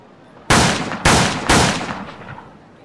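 Three loud cartoon gunshots in a saloon scene, sharp cracks about half a second apart, each followed by a short echoing decay, with no talk over them.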